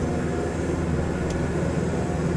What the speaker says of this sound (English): we're taxiing to the runway